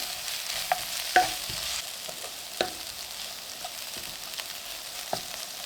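Onion and spices with turmeric sautéing in a pan for Kerala egg curry, a soft continuous sizzle broken by occasional scrapes and knocks of a spoon stirring, close and fairly quiet.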